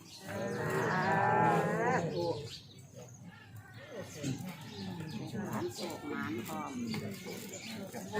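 A cow gives a loud, drawn-out moo, followed by softer animal sounds mixed with people talking in the background.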